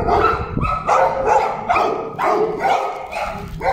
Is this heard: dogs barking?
yes